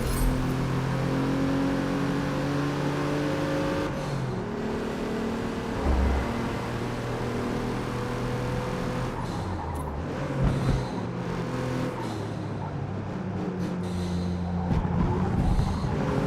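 A turbocharged race car in Forza Motorsport revs and accelerates through gear changes, its engine note rising and falling steadily with whirring induction noise; loud and continuous with no voices.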